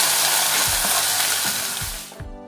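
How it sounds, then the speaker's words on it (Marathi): Ground spices and red chilli powder sizzle loudly in hot oil for a tempering for spicy katachi amti, a steady bright crackle with a few stirring knocks, cutting off abruptly near the end. "ही फोडणी पटापट करावी लागते, करपवायची नाही"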